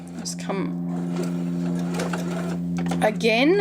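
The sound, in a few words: sewing machine stitching quilt fabric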